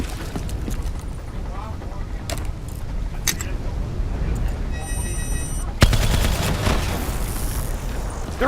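Gunfire in Call of Duty Black Ops 3, with repeated loud shots and bursts over a dense battle backdrop of rumbling explosions and mechanical noise, while voices talk over the action.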